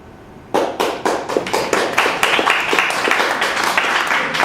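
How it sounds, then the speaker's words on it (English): A small audience at a public forum claps after a spoken response. A few sharp claps start it off, then steady, fairly close clapping continues from a handful of people. "I had one of my people here that promised they would clap after my responses."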